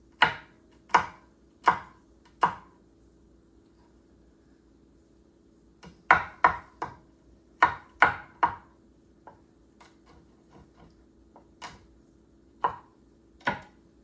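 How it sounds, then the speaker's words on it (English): A knife chops garlic on a board in crisp, sharp strokes, first in a slow series of single chops, then in quicker bursts, close and alone. "Thought I'd give you all some garlic chopping ASMR."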